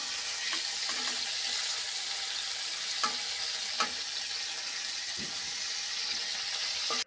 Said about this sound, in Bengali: চিংড়ি মাছ একে একে নামিয়ে নিচ্ছি।